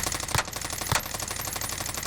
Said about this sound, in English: They're shooting at everything.